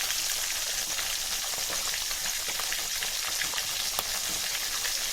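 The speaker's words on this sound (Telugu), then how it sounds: "సో దీంట్లోకి నేను ఫిష్ ముక్కలన్నింటినీ డ్రాప్ చేస్తా ఉన్నా" Fish pieces fry in a pan for a fish curry, giving a steady dense sizzle with crackles and a few soft stirring clicks, close by and with no talk.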